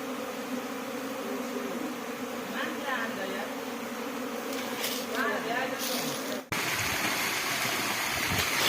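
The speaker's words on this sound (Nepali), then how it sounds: "मौरी यार तर पालभित्र पो रहेछ" Bees hum steadily around a tent on a village hike beside a stream, a continuous buzzing layered over rushing water, with a sudden brief dropout midway before the buzz and flow resume.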